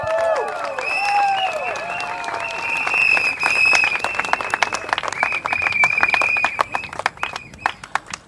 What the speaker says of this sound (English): A round of applause to her,